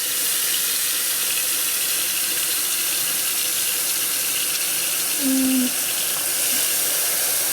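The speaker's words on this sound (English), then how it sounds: "I'm going to fill that with just enough water to cover the fruit" Steady broadband rush of running water pouring continuously into a pot of prickly pear fruit, fairly close, with no talking over it.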